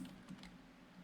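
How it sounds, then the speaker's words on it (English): Soft, quick keystrokes on a computer keyboard, faint and close, a brief burst of typing with no voices. "I'm typing something in"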